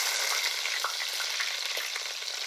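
Shallots and slit green chillies fry in hot coconut oil with mustard seeds, a close, steady crackling sizzle with soft stirring scrapes running continuously throughout, no voices.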